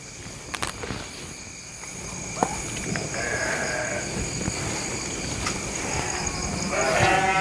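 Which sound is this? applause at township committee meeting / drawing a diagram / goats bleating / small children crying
goats bleating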